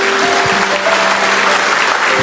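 A church congregation applauds during a sermon, a loud, steady wash of clapping filling the whole stretch with no break.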